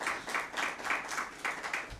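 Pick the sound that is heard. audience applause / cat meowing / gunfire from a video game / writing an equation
audience applause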